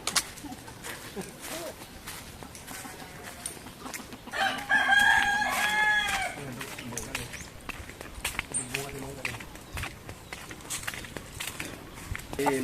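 A native Philippine rooster crows once, loud and nearby, rising and falling over several seconds amid clucking fowl, footsteps and people talking in the background.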